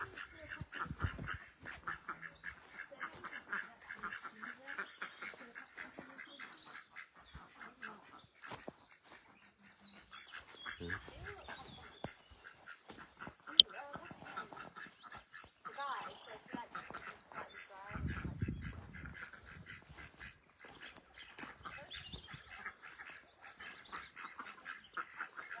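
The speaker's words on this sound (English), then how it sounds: "That's Tootin the duck." A duck quacks and honks in short repeated calls outdoors, fairly faint and steady across a long stretch, with someone talking at times and brief low rumbles in the background.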